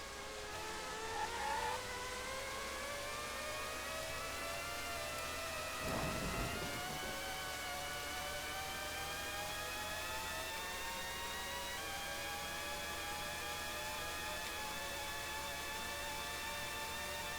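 Formula 1 car engines from the 1997 game Formula 1 Championship Edition at Melbourne whine at high pitch, steady rising harmonics, with a quick whooshing pass-by of another car midway, faint overall.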